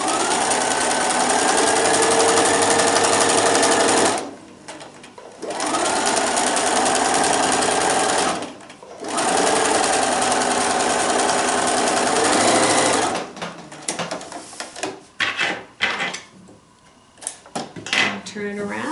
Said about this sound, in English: I'm just going to use a straight stitch and stitch in the ditch with this variegated thread